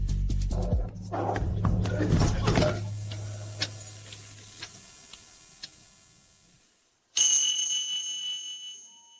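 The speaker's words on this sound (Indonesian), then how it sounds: "apa kalian dengar bunyi lonceng ini?" A bright bell rings out with a sustained, shimmering tone, struck again after a brief pause, over low rumbling music at the start.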